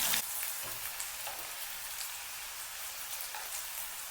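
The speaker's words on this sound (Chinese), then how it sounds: "把豆腐给它煎香，煎至两面金黄" Tofu pan-fried until golden on both sides gives a steady, dense sizzle and crackle of hot oil that runs close and unbroken throughout, with no talking.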